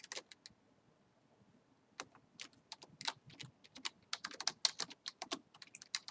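Quick bursts of computer keyboard typing as commands are entered for Minecraft WorldEdit, close and crisp, with a short pause before a faster run of keystrokes.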